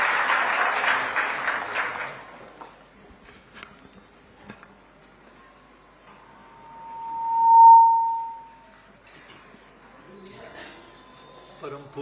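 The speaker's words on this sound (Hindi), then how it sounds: "एक बार जोरदार तालियों के साथ स्वागत।" Audience at the inauguration of a nursing college in Raipur, Chhattisgarh, gives a brief burst of clapping for about two seconds that then fades into near-silence, broken by a sustained tone and scattered faint clicks.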